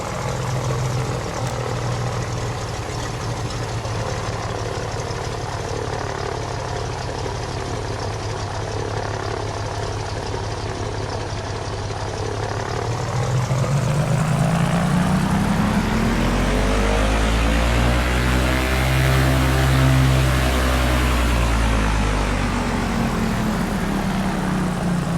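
A Carenado Cessna 337H Skymaster, a push-pull twin-engine plane in Microsoft Flight Simulator, taxis with a steady propeller drone that swells midway into a louder, throbbing engine hum.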